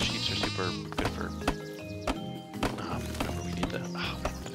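Several wavering sheep bleats in Craft The World, repeated over game music with light percussive clicks, moderately loud and near; a faint voice may be present beneath.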